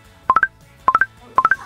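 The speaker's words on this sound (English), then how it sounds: "That's a Snapchat notification." A Snapchat notification tone plays three times, each a quick rising three-note electronic chirp, loud and clean, repeating about every half second with near silence between.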